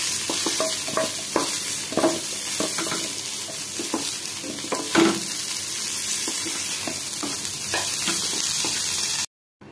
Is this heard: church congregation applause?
no